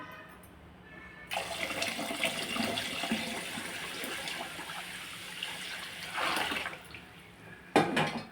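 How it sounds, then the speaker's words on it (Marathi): Water gushes steadily onto washed finger millet in a container, set aside for soaking before papad making. A loud continuous stream runs for about five seconds, then stops, followed by a brief splash near the end. "त्याच्यात पाणी टाकायचं. आपण पाणी टाकून घेऊ."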